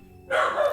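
A single short, close bark from a pet dog rings out in an otherwise quiet room.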